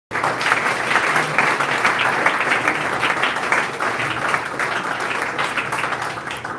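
A church congregation in Brazzaville bursts into loud, sustained applause, a dense wash of many hands clapping steadily at close range with no break for the whole stretch.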